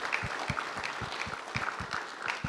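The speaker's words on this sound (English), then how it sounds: "Everybody give them a round of applause." A church congregation claps at a Pentecost Sunday gathering, the applause mixed with a regular low thumping beat that repeats about every third of a second.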